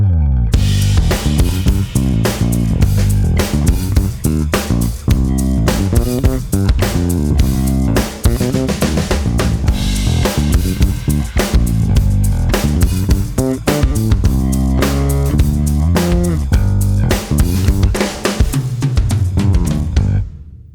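An electric bass with an active preamp, on a Sire Marcus Miller bass, plays a loud, full, punchy line of rapid notes and chords, alone and continuous with a bright, rich tone.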